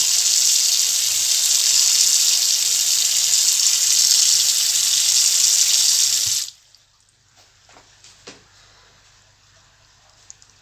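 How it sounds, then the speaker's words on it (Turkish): Water runs loudly and steadily from a tap into a freshly unclogged bathroom sink and drains freely for several seconds, then stops, leaving faint handling noises and quiet drips. "Şu anda gördüğünüz gibi su rahat bir şekilde gidiyor"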